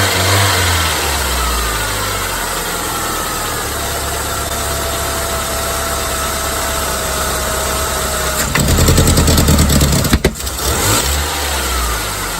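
A 1999 Saturn SC1 with a SOHC engine and a lean-running fault from a bad fuel pump idles loudly up close, then is revved in a short burst before settling back to a steady idle.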